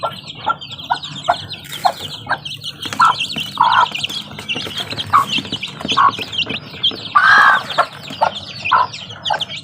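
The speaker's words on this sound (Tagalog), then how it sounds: "Yan yung sisiyo ni Blos." Chicks and chickens at feeding time keep up a busy mix of high, rapid peeping and softer clucks, close and continuous, with louder calls breaking through now and then.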